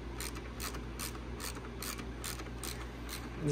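A ratchet wrench with a T25 bit tightens the chain on a Ski-Doo Gen 4 snowmobile: a fast, even run of close mechanical clicks over a low steady hum, quiet, with no talking.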